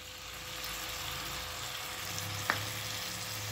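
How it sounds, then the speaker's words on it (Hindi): Kadhai mutton frying in a kadhai as four tablespoons of yogurt go in, a steady sizzle throughout with one brief clink of a spoon near the end. "अब हम इसमें 4 टेबल स्पून दही डालेंगे"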